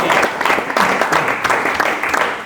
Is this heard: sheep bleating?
no